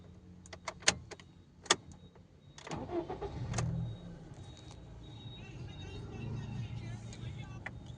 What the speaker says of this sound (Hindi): हम गाड़ी को करेंगे सीधा स्टार्ट।